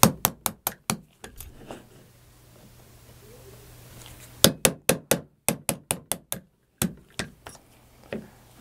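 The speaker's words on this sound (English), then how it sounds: "And we'll go ahead and knock the pins out." A hammer knocks the frame pins out of a Kel-Tec PF-9 pistol frame on a knockout board, giving sharp, close metallic taps in quick bursts, then a pause, then another rapid run of strikes.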